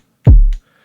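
A single trap kick drum sample from BandLab, one loud, deep, booming hit with a punchy attack and a short low tail, followed by silence.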